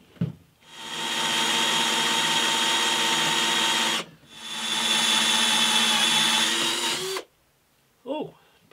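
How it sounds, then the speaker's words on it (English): A power drill bores into plywood in two long, loud whining bursts separated by a brief pause, then stops before a voice speaks. "A whole load of plywood's come out, but I'm now going to have to clear it out of the drill."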